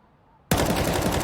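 Gunfire bursts out suddenly in a Counter-Strike tournament match on the Nuke map, loud and close. It continues as rapid automatic shots after a brief quiet moment.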